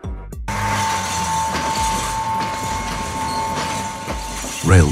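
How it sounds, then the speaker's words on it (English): A railbus, a bus-like 1930s railcar for lightly used rural lines, runs along the rails with a steady close rumble, a sustained metallic tone and rattling over the track, and a brief louder squeal near the end. "Appearing in the 1930s, the Railbus looks like a bus, but runs on rails, serving rural routes with fewer passengers."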